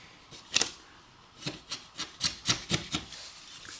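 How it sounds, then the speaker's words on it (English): A hand scraper drags across a wall being prepared for painting, giving a series of short dry rasping strokes, one early and then about six in a steady rhythm, close and fairly quiet with no talk. "just going to scrape it just like that"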